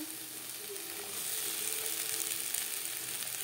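Eggplant with drumstick flowers frying in a pan over a low-to-medium gas flame, giving a steady broadband sizzle that swells slightly partway through and continues without pause.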